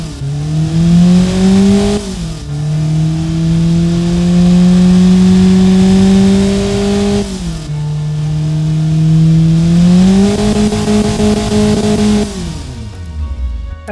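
A loud Hyundai 1.4L inline-four engine in the game Automation revs up and holds a high drone, drops back, then climbs again in repeated surges.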